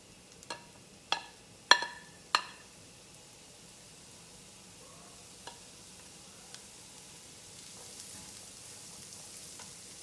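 Italian stuffed rolls go into a pan with four sharp clacks close together, then settle into a faint, steady sauté hiss with occasional small ticks. No speech.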